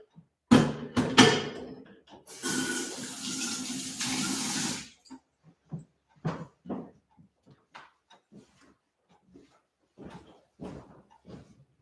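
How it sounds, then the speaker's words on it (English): Tap water runs at a kitchen sink for a few seconds while hands are washed, then gives way to scattered clunks and small knocks as things are put away. "let me wash my hands again"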